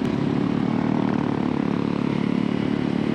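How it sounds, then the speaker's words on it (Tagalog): A Yamaha Mio Sporte scooter engine runs steadily on a city street near a public market in Tagum City, a loud continuous droning hum close by with no speech. "ang gamit natin ng motor ngayon ay itong Yamaha Mio Sporte na scooter"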